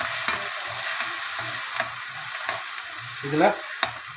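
Ginger and green chili tempering in hot oil in a pan for rava kichadi give a steady, close crackling sizzle with light stirring clicks, and a voice speaks briefly.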